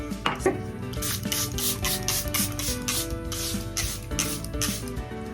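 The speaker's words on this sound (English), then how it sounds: "I'm just gonna set my whole face with my Charlotte Tilbury airbrush spray." Repeated short hissing sprays of a Charlotte Tilbury Airbrush setting spray onto a face, about a dozen quick bursts, over soft background music, close to the listener.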